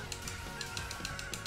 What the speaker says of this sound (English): we have some cuckoos over here that we can attack